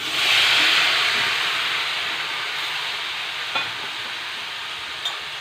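Jackfruit pieces hit hot oil and fried chilli powder in a frying pan, setting off a loud, steady sizzling hiss that settles a little. Two faint clicks sound near the end.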